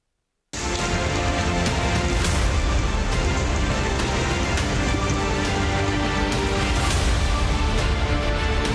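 Heavy monsoon rain in Lahore pours down without a break, a loud dense hiss of drops drumming on hard surfaces that starts suddenly and stays even with no talk.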